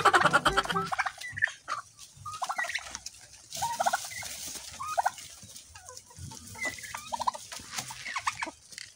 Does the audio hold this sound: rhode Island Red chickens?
yes